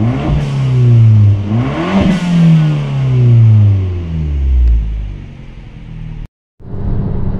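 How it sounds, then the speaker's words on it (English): A small turbocharged four-cylinder car engine revs up and down several times, loud and close, then cuts out for a moment before picking up again. "This is a small car with a turbo, and it sounds like this."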